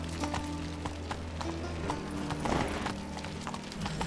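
Roach, a horse in The Witcher 3, gallops with steady rhythmic hoofbeats over a constant low background hum, moderately loud and close.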